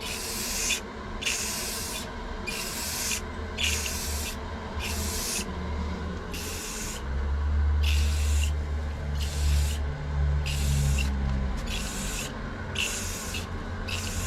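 A spray can lays a second coat of paint on a Nissan 350Z engine bay, making about a dozen short, even hissing bursts in a steady rhythm, close and clear, with a low rumble in the background.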